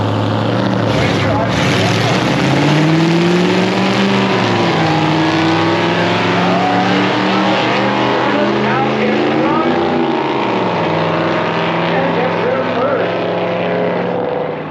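A drag racing car runs down the track at a grudge-match event, its engine a loud, sustained roar with rising and falling pitch throughout, close and continuous, with voices faintly mixed in.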